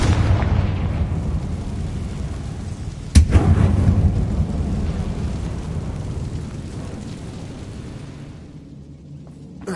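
A fiery Confringo blast in Hogwarts Legacy on PS5 bursts out as a single sharp boom about a third of the way through. It rings into a rumbling decay over steady low game ambience, with no talking.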